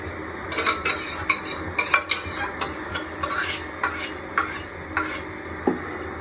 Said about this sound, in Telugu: ఇలా కలబెట్టుకుంటూ ఉండాలి, అడుగంటకుండా.